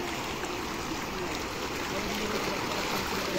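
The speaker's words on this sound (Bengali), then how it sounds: "ভালো স্রোত বইছে" Floodwater in the Ghatal flood area rushing past in a strong, steady current, a dense continuous wash of flowing water with no break, close and fairly loud.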